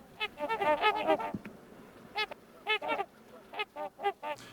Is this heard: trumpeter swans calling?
yes